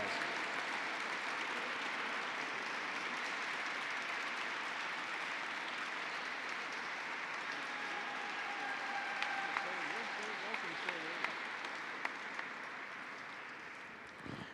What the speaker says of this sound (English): Let's get up, stand up, give her a round of applause.